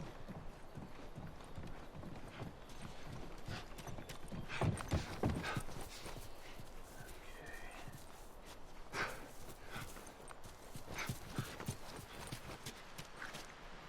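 Horse hooves clip-clop in the video game The Last of Us, an irregular run of clopping footfalls over a soft background, with occasional louder strikes throughout.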